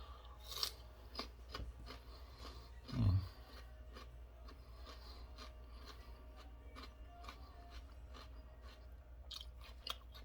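A raw potato is chewed up close, with crunchy, rasping bites and grinding mastication in irregular bursts, one louder thud midway, over a low steady background hum.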